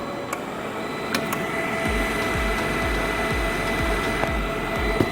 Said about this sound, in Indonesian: Ini kipasnya udah bunyi.